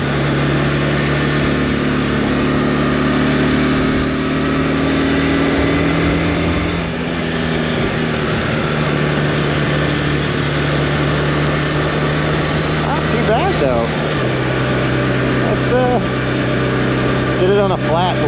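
A Honda CB450T motorcycle engine running and bogging, a steady mid-level rumble with uneven dips in pitch, heard under continuous talking.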